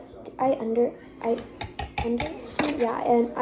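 Metal kitchen utensils clatter and clink as someone rummages through a drawer for a whisk, several quick bursts of rattling close by, with a voice talking and a voice in between.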